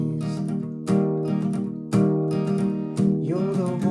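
Acoustic guitar strums the verse of a song, with sustained ringing chords and fresh strums roughly every second, close and fairly loud, no voice.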